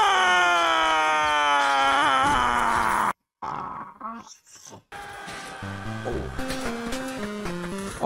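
A loud, drawn-out shouted battle cry from a medieval melee fighter in Chivalry 2, its pitch sliding downward over about three seconds. It cuts to a short silence, followed by busy in-game combat sound.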